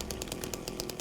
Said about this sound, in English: Look at that. Bloody chainsaw.